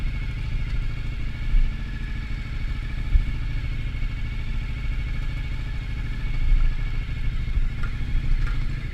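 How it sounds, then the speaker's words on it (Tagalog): Enduro motorcycles on a mountain trail during a motocross adventure ride, a steady rumbling engine drone with clattering bursts and brief surges, fairly close, no clear talk. "Puro enduro motor."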